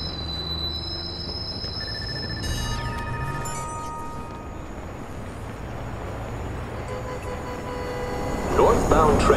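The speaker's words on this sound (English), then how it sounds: "Southbound train arriving shortly." An underground train pulling into a station in Watch Dogs, wheels squealing in long high-pitched whines over a low rumbling roar that swells louder toward the end, with a station announcement voice.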